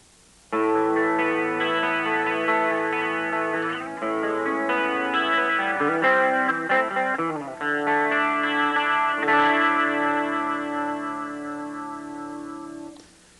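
Electric guitar chords ringing out with a shimmering, wavering chorus effect, sustained and close, a thick swirling tone with no talking.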